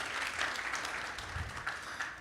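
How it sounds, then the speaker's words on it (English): An audience at the Tesla Takeover 2023 event gives a short, soft round of applause, a dense, even wash of clapping heard from some distance. "Round of applause."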